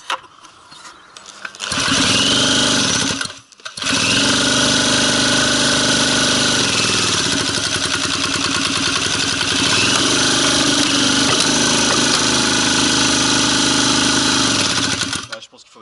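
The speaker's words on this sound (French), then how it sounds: "Iseki, test démarrage numéro 2." An Iseki two-stroke engine pull-started on a test run, catching and running loud and buzzy close by, cutting out briefly and restarting into a steady raspy idle until it stops near the end.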